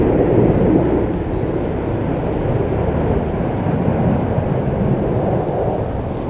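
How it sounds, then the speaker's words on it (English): An aeroplane drones overhead above a fishing lake, a broad, steady rumble that swells slightly at first and then holds at a moderate distance with no talk. "Got some big old helicopters going about here now and again."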